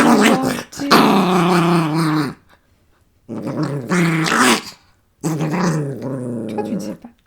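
A small dog growls in two long rumbling bursts with a pause between, close and fairly loud, alone with no talk over it.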